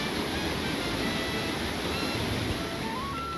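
A secluded waterfall in Dominica spilling into a swimming pool, heard as a steady, dense roar of falling water that fills the whole moment without pause and with no voices.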